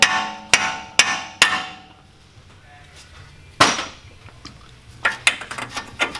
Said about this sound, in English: Nice little copper hammer here and a tap.